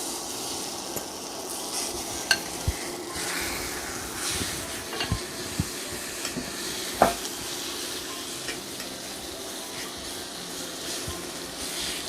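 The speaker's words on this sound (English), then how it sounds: "We're going to start frying up our chicken." Chicken frying in a hot pan with a little oil on a stovetop, a steady close sizzle and hiss broken by a few sharp pops and light stirring scrapes, with no talking.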